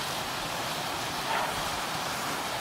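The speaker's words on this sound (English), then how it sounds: "What an amazing waterfall." A small waterfall on an early tributary of the River Goyt gives a steady, broad rushing hiss, close and constant throughout with no voices.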